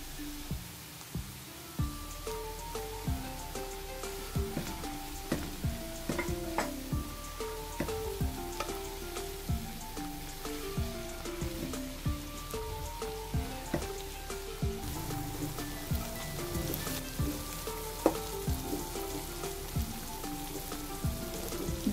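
Chopped tomatoes sizzle and crackle with beef keema in a karahi, a steady close frying hiss broken by scattered pops and light stirring clinks throughout, with no talking.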